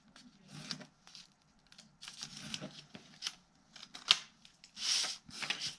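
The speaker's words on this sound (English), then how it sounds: "We're going to go along the bottom and just do an angle cut all the way across" Scissors snip an angled cut across the bottom of a lightweight paper gift bag, a series of quiet, close crisp snips and paper rustles with short pauses between them.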